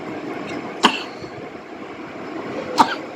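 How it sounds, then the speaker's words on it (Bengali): A child coughs twice, two short sharp coughs about two seconds apart, close by against a quiet room hum. "কাশি হচ্ছে তো, ওই জন্য তো মাখিয়ে দিচ্ছি"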